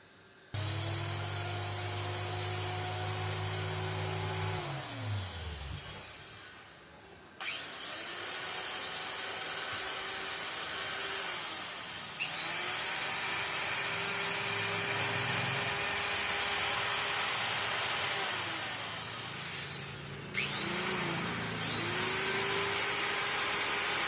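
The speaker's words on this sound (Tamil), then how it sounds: "இப்போ பார்த்தீங்கன்னா ஆர்க்கும் இல்லை, ப்ளஸ் வந்து மிஷினும் ஸ்மூத்தாக போய்கிட்டு இருக்குது." Marble cutter running smoothly after an armature change, a loud high electric motor whine that spins down and restarts several times, steady between the stops.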